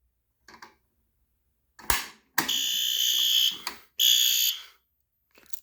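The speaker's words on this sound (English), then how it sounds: "See the alarm flashing." A System Sensor P2R horn strobe fire alarm blares in loud, harsh bursts, two long blasts with short clicks and bangs around them and silence between.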